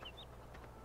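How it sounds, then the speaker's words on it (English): A chicken wandering a farmyard in Farming Simulator 17 gives a couple of brief, faint clucks over a steady low game hum. "There's another chicken wandering around."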